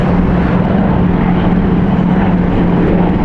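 A WWII C-47 propeller aircraft taking off from a Texas airfield, its engines a loud, steady, close drone with a constant low hum throughout.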